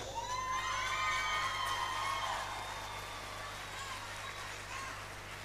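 A concert crowd at a show cheers and shouts in a sustained wash of voices, loud at first and then easing slightly, with whoops rising above the roar.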